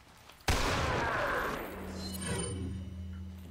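A single sharp gunshot from Resident Evil 4 cracks loudly, then a lingering rumbling tail and game ambience follow, with no talk.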